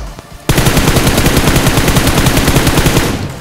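Gunfire in PUBG Mobile: a loud, close, unbroken burst of rapid, evenly spaced shots that starts abruptly and runs for about three seconds before cutting off.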